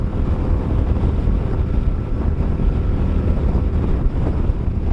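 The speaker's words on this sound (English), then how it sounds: "the wind's still shaking us around" Heavy, constant wind buffeting roars into a helmet-area mic while riding a motorcycle, loud low rumble with no speech over it.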